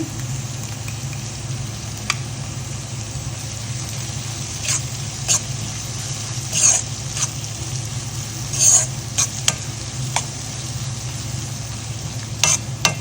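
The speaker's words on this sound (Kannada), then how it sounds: "ಅದೇ ಚೆನ್ನಾಗಿ ಫ್ರೈ ಆಗ್ತಾ ಇದೆ ಲೋ ಫ್ಲೇಮಲ್ಲಿ ಚೆನ್ನಾಗಿ ಫ್ರೈ ಮಾಡ್ಕೋಬೇಕು" Chicken frying on a low flame in a pan gives a steady, soft sizzle with a low hum underneath, broken by occasional scrapes and clicks of stirring, with no talking.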